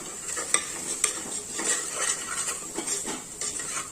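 Spoon stirring onion and tomato curry with coriander powder in a pan for a drumstick curry, with soft scraping strokes and a few sharp metallic clinks against the pan, moderately close with no talking.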